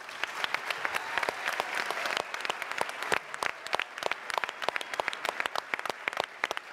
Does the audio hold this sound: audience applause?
yes